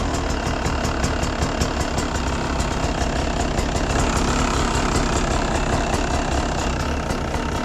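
A Beta 300 dirt bike engine idles steadily and loudly up close, a continuous rough two-stroke putter with no voices over it.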